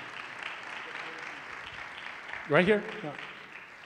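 An audience claps in a steady, moderate patter as volunteers come forward at a church gathering, while someone briefly speaks up close over the applause.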